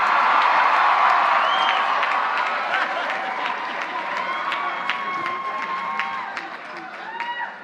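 Commencement audience at a college graduation standing and applauding, a loud dense wash of clapping with cheers and whoops that slowly thins out, with shouting voices mixed in.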